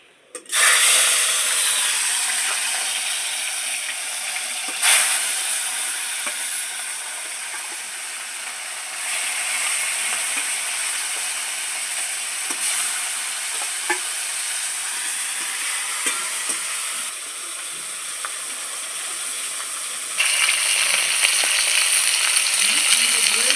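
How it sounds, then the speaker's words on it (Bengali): Rohu fish sizzles steadily in hot oil, a loud continuous crackling hiss with occasional sharper pops, holding nearly constant throughout. "মাছগুলো ভেজে নিচ্ছি"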